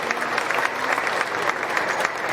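Applause for heifer exhibitors at a county fair beef show, a steady, full round of clapping from the crowd, continuous and fairly loud with no break.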